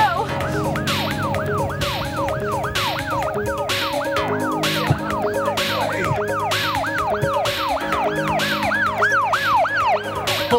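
A toy rescue vehicle's electronic siren wails loud and close in a fast, steady up-and-down cycle that repeats without a break, over a faint low hum.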